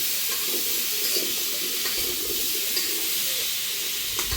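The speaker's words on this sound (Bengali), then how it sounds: "মিষ্টি কুমড়ো দিয়ে কিছু সময় নেড়ে চেড়ে নেব।" Sweet pumpkin pieces are stir-fried in a cooked spice paste, making a constant soft hiss and sizzle with faint scraping of a spatula, heard close and alone.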